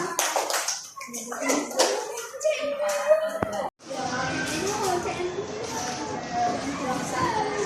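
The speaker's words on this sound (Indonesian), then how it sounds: "Tepuk tangan dulu untuk kelompok 4." Classroom children clap for a group after its presentation, scattered uneven claps mixed with kids' chatter, then after a brief drop to silence a busier, rougher stretch of clapping and noise under voices.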